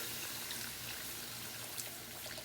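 Water pours steadily and softly into a pan of brown roux, a continuous splashing trickle close by with no talking.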